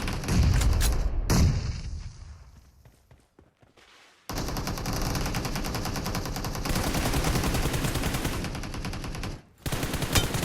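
AKM and M416 rifles firing in a video game, with bursts of rapid automatic gunfire, a brief pause into near silence, then a long sustained stretch of loud, dense shooting.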